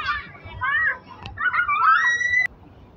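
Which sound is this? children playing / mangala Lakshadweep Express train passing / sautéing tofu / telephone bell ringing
children playing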